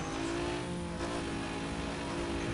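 A car accelerates in the Need for Speed: Most Wanted racing game, its engine droning in a steady, loud, sustained tone with layered harmonics, close and continuous with no voices.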